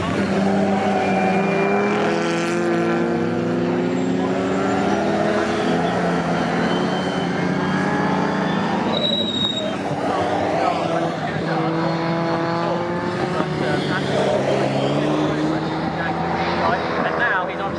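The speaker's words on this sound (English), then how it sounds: "two Jaguars are side by side. The E-Type goes up the inside there to Andy" Jaguar E-Type and XK race cars run together in a pre-1963 circuit race at Snetterton, loud engines rising and falling in pitch as they pass, with a commentator talking over them.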